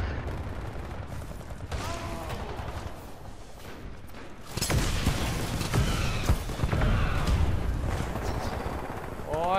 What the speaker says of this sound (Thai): ไอ้ตัวหุ่นยนต์นี่มันยิง